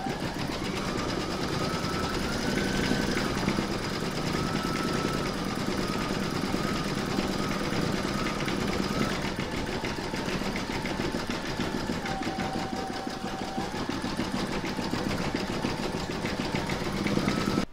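An embroidery machine stitches a section of a placemat in the hoop, a steady mechanical whirring hum with a fast repetitive needle rhythm that keeps going without pause, with no voices.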